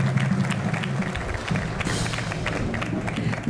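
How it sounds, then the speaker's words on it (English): Applause from an audience at a high school band hall ribbon cutting ceremony, moderately distant and steady, with low rumbling thumps and crowd murmur underneath. "one more final round of applause for doing a great job this morning"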